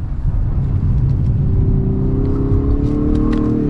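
A 2022 Lexus LS 500 F Sport accelerates hard, its engine and exhaust note climbing steadily in pitch as a loud, continuous rumbling drone heard from inside the car.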